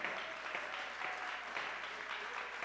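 A church congregation claps together as an offering of praise during a service, a dense, even wash of hand claps that holds steady and fills the room, with faint voices mixed beneath.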